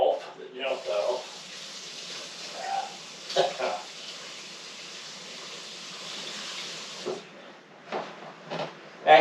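Tap water runs steadily into a container being filled to a line and rinsed, a broad continuous hiss lasting several seconds with brief clatter and pauses at either end.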